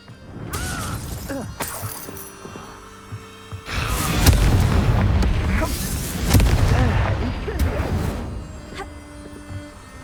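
Confringo blasting spells from the Hogwarts Legacy video game explode again and again, with booming, shattering impacts and crashing debris in a heavy combat mix that swells and fades over several seconds.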